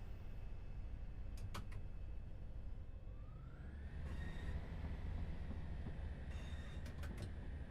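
An HST train in Train Sim World 6 runs with a continuous low rumble of wheels and engine, a rising whine building midway, and a few sharp metallic clanks scattered throughout at moderate loudness.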